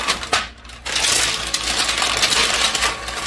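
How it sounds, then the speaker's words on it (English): A cooking pot is covered with its lid, giving a sharp metallic clink at the start, followed by a steady hiss of simmering in the kitchen. "So right now you're going to cover your pot."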